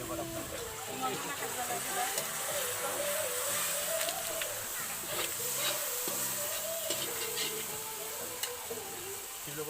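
A frying pan sizzles and hisses steadily after a little water is splashed in, with faint stirring clicks, while a person talks throughout.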